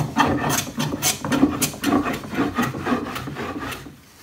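A hand plane is pushed in repeated strokes across a wooden board to flatten its high spots, giving about eight rhythmic rasping swishes roughly half a second apart, close and clear, fading at the end.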